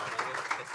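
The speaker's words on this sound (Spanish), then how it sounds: "Un aplauso" A brief burst of congregational applause at a Sunday church service, a short patter of clapping at moderate level.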